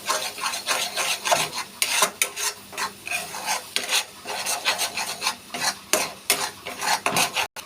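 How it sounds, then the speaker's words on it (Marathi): Egg and onion bhurji being stirred in a pan, a busy run of close scraping and rasping strokes of a utensil against the metal, repeated rhythmically with no talk. "जसं आपण नॉर्मल भुर्जीला करतो तसं हे हलवून घ्यायचं व्यवस्थित"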